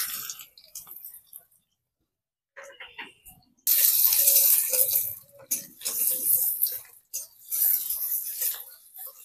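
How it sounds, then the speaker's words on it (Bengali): Chopped onions drop into hot oil in a heated wok and break into a loud, bright sizzle that rises suddenly and keeps crackling steadily, with brief dips, after a few quiet seconds of faint kitchen sounds. "পেঁয়াজ কুচিগুলো দিয়ে দেব।"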